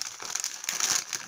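Plastic packaging crinkling as a cheap wristwatch is unboxed, a close, continuous rustle and crackle lasting just over a second.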